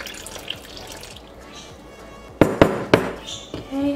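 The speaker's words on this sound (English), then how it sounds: "Slowly add in your 1 cup water." A cup of warm water slowly trickles into a homemade paint mixture, a soft pour that gives way to a few sharp knocks and splashes against the container, with a voice speaking briefly.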